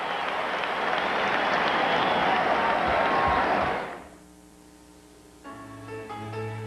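A basketball arena crowd at a North Carolina versus Georgia Tech game roars with loud, sustained cheering and applause for the Tar Heels' defense. The noise cuts off sharply after about four seconds, and quieter musical tones follow.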